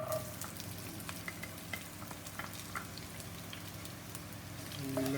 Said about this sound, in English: We'll let it fry for little golden brown color on high flame.